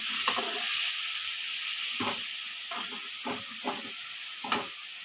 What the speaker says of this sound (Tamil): இப்போ வெட்டி வச்சுருக்க காய்கறி எல்லாத்தையும் போட்டு நல்லாவே வதக்கிக்கலாம்.